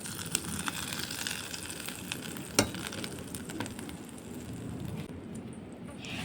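A tempering of hot oil with Kashmiri red chili powder poured over kadhi curry, giving a steady bright sizzle with a sharp spoon clink midway, close and continuous without talk.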